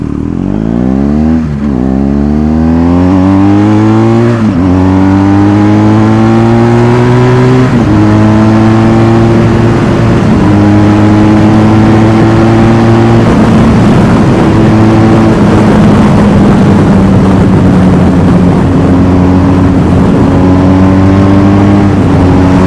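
A BMW R 1250 GSA motorcycle pulls away from a traffic signal and accelerates hard, its loud engine note climbing through several gears with brief dips at each shift, close and steady for the whole stretch.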